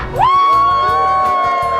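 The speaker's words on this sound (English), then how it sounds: "can you like raise your hands and do a little cheer?" A crowd of people cheers with raised hands, a loud, brief burst of whooping led by one sustained high rising shout, close and lasting under two seconds.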